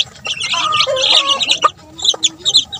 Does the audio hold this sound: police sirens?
no